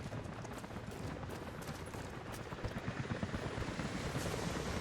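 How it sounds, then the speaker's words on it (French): Steady rotor-like thrum of video game helicopters building in a dense, rumbling mix, growing louder toward the end with rapid pulsing beats. "des hélicoptères arrivent dans votre direction."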